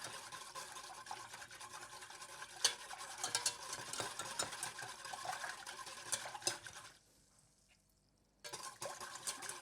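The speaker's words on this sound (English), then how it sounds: "So we'll use a whisk to mix everything." A whisk scrapes busily through a honey and sugar mixture in a pot while making galaktoboureko, with steady rough strokes that stop for a short quiet pause near the end and then resume.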